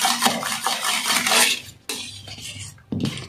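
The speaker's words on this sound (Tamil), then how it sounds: "அதுக்காக தான் நல்லா நொற வர அளவுக்கு நல்லா பீட் பண்ணிக்கலாம்" Eggs whisked hard in a bowl for a Tamil-style bread omelette, a steady run of rapid metallic clinking and scraping of utensil against the bowl, close and busy, with two brief pauses.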